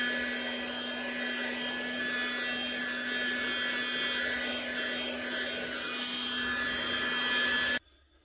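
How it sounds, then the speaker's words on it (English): A heat gun blows steadily over freshly painted leopard-print sneakers, a constant loud whooshing roar with a motor hum that runs unbroken for about eight seconds before cutting off abruptly. "I'm going to just pass the heat gun over just to speed up the drying time"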